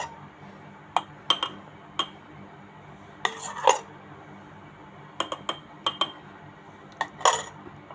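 Spoon clinks against a cup while Dalgona coffee mixture is served, a series of sharp, separate taps and scrapes, close and fairly quiet against a hushed background.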